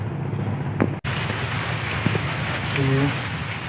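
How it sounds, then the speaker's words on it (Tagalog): Steady rain falls on a farm plot near a small hut, a dense, even hiss that runs throughout with a few faint thuds and a brief gap, and no talk. "Medyo maulan"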